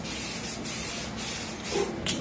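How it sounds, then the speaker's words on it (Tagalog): Sparkling silver spray paint hissing from an aerosol can onto crumpled plastic wrap, one continuous close, loud spray with small shifts in intensity, and no voices. "i-spray lang natin dito sa nilukot natin na plastic wrap"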